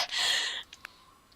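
A sneeze in a Second Life virtual world scene: one loud, breathy burst lasting about half a second, trailing off into a couple of faint clicks and quiet.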